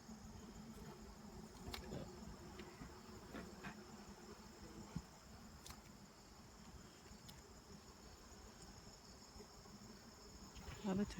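Bees buzz in a soft, continuous drone around a beehive in New Hampshire after rain, faint and steady with occasional closer fly-bys, and no talking.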